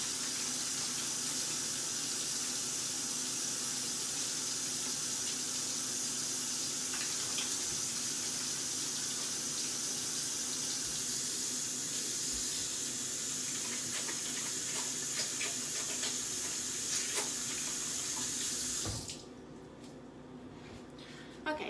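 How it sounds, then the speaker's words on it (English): Water runs steadily from a tap into a sink while hands are washed, a continuous hiss of flow lasting most of the clip before it is shut off near the end. "So here I go, washing my hands again."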